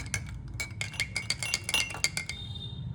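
Ice cubes dropping into a glass of aloe vera juice, giving a run of quick, bright clinks and knocks against the glass over a low background rumble.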